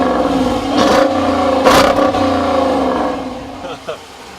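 The HEMI V8 in a 2014 Dodge Durango R/T rumbles at close range and gives a couple of sharp revs over a steady idle, with voices talking over the engine.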